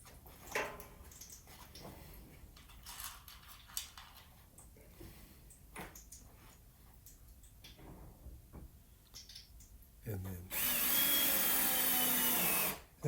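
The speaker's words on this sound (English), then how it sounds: "just screwing in the first one, making sure it's lined up properly." A power drill drives screws into a picture frame while framing artwork for an exhibition in a studio, with quiet handling and tapping sounds, then a loud steady whir near the end.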